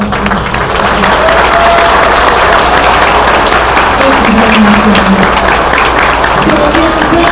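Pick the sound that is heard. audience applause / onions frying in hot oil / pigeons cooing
audience applause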